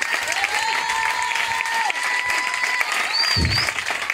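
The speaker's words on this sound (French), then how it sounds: "Quelqu'un peut donner acclamation au Seigneur Jésus." Sustained applause from a congregation at a Wednesday prayer service fills the space, steady and close, with a high whistle-like tone rising over the clapping and a low thump near the end.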